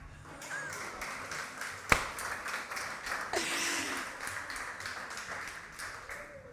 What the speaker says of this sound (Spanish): Denle un aplauso al viento.